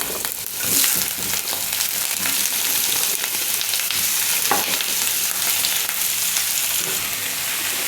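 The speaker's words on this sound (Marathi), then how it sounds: "आता याला आपण गोल्डन कलर येईपर्यंत फ्राय करून घ्यायचं आहे" Vertically sliced onion frying in hot oil in a pan for a spicy mutton curry, a steady close sizzle running throughout with occasional stirring scrapes, no voices.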